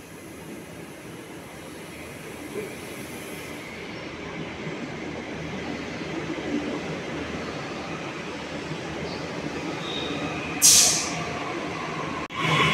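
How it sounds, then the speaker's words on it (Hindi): A metro train rumbles steadily as it pulls in, with a brief high squeal near the end and no talking. "आ गई हमारी मेट्रो।"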